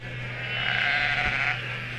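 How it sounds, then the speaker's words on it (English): Sheep bleat across an open field in one sustained, fairly close cry over a steady low hum. "all these sheep all over this field"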